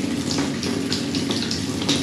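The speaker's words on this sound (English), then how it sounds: "Now, if I lift the shower head up and turn the tap on, so the tap's running" A bath tap runs water into a freestanding bath during a plumbing repair, producing a steady, close, continuous rushing hiss with no voices.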